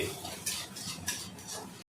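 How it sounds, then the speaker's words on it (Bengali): Onions frying in a pan during a home mutton cooking session, a steady sizzling wash with a few scraping utensil strokes against the metal, close and fairly loud with no talking. "পেঁয়াজ ভাজছো তো দেখি পেঁয়াজ ভাজা হচ্ছে"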